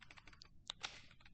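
Fingers type on a laptop's built-in keyboard in a quick, uneven run of soft clicks, with a couple of sharper key taps mixed in. The typing is faint and close, with no voices.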